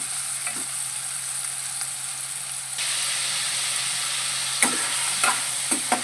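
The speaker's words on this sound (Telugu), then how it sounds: "నేను గ్రేవీ కోసం టమాటా వేస్తున్నాను. ఇది బాగా ఫ్రై చేసుకోవాలండి." Tomatoes frying in a pan for a brinjal and pea curry gravy, a continuous close sizzle and hiss that rises slightly partway through, with a few light spoon taps and scrapes near the end.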